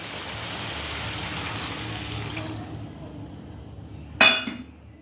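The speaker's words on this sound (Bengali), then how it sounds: "এবারে জল দিয়ে দেবো" Water poured into a cooking pan of spiced greens stems and potatoes, a steady close splashing pour that tapers off, followed by a sharp clink of a pot or utensil near the end.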